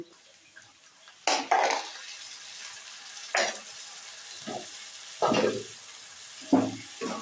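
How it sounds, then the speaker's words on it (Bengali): Ginger-garlic paste and browned onions fry in a wok with a steady low sizzle, broken by several loud scraping stirs of a spatula against metal at irregular intervals. "আদা রসুন বাটা দিয়ে পেঁয়াজের সঙ্গে আমি ভালো করে কষাতে থাকবো।"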